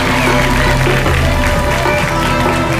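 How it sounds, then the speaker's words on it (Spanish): A studio audience on a Peruvian television game show applauds the judge, a loud, continuous wash of clapping backed by a constant hum of music. "Palmas para el señor juez, por favor."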